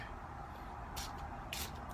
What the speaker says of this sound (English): Just gently spray a few times.